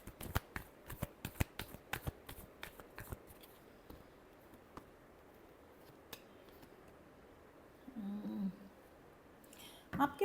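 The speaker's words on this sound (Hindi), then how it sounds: "Last shuffle." Tarot cards are given a final shuffle, a quick run of crisp, papery riffling clicks up close, then a quieter lull with a brief faint voice near the end.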